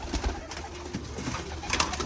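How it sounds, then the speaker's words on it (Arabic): Pigeons cooing in a loft or coop, soft low murmuring coos repeating steadily under a faint background hum, fairly close and continuous. "ما شاء الله على هذا الحمام"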